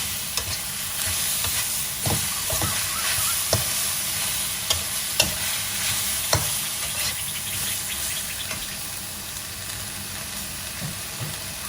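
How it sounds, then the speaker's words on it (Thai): Cabbage and chicken giblets stir-fried over high heat in a pan, a steady broadband sizzle with scraping spatula stirs and occasional clinks throughout, close and continuous with no talking. "คราวนี้ก็ผัดกระหล่ำปีให้ เกือบจบสุกเลยนะฮะ"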